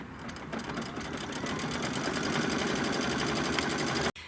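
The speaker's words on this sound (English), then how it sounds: "And now it's just going to go into the quilting, and it's going to quilt all 3 of them." An embroidery machine quilting layers of fabric, its needle running in a steady, fast, continuous mechanical rhythm close to the mic, with a brief stop near the end.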